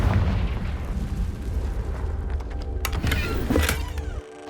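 A Confringo spell explosion in the video game Hogwarts Legacy, a low rumbling boom with crackling debris bursts near the end, loud and close.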